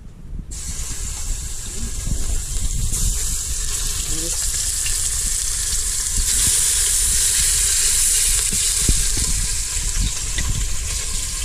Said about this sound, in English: Just brown it a little so it can get nice and seared.